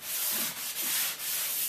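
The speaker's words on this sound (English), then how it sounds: "I'm going to hit it with the sanding sponge" Steady rasping strokes of a sanding sponge rubbed over interior door casing or window trim while prepping a room for primer and paint, close and continuous with brief pauses between passes.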